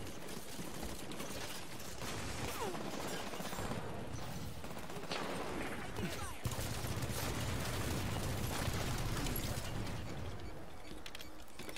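Gunfire in a Halo match, with dense, rapid shots and mechanical clatter running continuously, one sharp crack standing out midway, mixed with some voice in the background.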